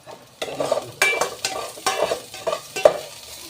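Ginger and onion sautéing in a pan for chicken tinola, a steady close sizzle broken by several rhythmic stirring scrapes and strokes, with no talking.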